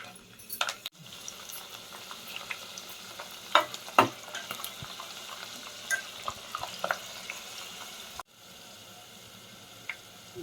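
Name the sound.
tempering with garlic and curry leaves frying in pan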